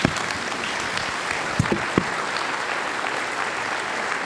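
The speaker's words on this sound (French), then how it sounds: "Je vous propose de les applaudir chaleureusement." An audience at an evening event applauds warmly, a dense, even wash of many hands clapping at moderate distance, with a few sharper claps standing out.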